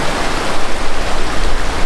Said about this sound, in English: We just made it to the final waterfall